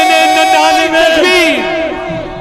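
A crowd at a religious sermon in Kashmir chants slogans in unison, a loud sustained mass of voices rising and falling for a couple of seconds.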